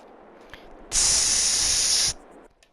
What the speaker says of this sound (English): We need to spray some ether in there.